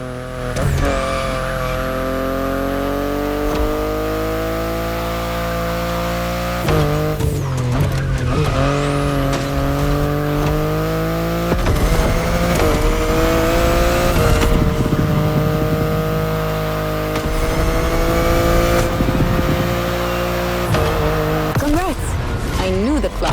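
A BMW car driven in the racing video game The Crew Motorfest, engine droning steadily with shifting revs, gear changes and occasional tire squeal, loud and continuous throughout.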